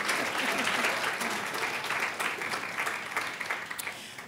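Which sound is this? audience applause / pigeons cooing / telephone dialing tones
audience applause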